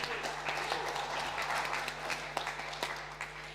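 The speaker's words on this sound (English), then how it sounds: "So another round of applause," An audience applauds a speaker at a social media conference, a moderate crowd of steady clapping heard from a slight distance with a faint hum underneath, and a voice briefly audible among it.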